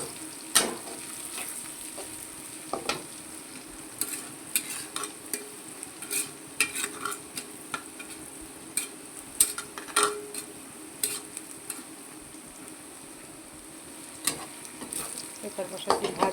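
Pointed gourd (potol) sliced into long strips fries in a pan, a steady soft sizzle broken by scattered sharp clicks and scrapes of stirring.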